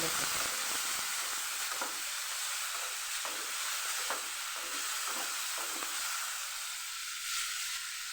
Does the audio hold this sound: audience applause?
no